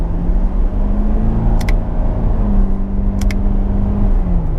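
Corvette Grand Sport with an 8-speed paddle-shift gearbox, its engine droning steadily at close range as it pulls, with a brief shift-like change in pitch midway and no talking.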